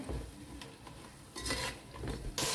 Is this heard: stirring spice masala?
yes